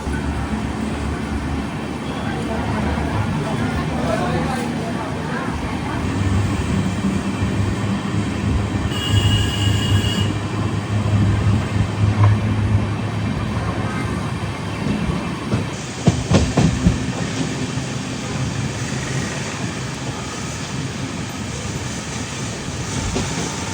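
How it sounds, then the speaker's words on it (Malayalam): The Kannur–KSR Bengaluru Express sleeper train rumbles along the rails with a loud, steady roar, wheels squealing at times and a brief clatter of clickety-clack toward the middle. "കണ്ണൂർ ബംഗളൂരു എക്സ്പ്രസിൻ്റെ ഫസ്റ്റ് സ്റ്റോപ്പായ പയ്യന്നൂർ നമ്മളെത്തി കേട്ടോ"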